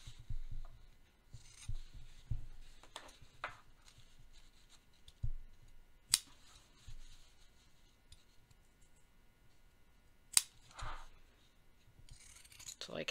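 Scissors trimming the fabric seam allowance of trousers, with quiet intermittent snips and rubbing of cloth close by, plus a few sharper clicks, no talking.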